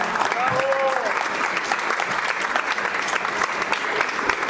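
A live audience at a book-talk event applauds steadily to welcome a guest speaker, dense clapping filling the hall, with a few brief voice fragments early on.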